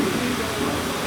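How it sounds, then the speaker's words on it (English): Waterfall at the Mayan Palace resort in Mazatlan, heard up close as a steady, dense rush of falling water that fills the whole brief moment without a break. "waterfall up close"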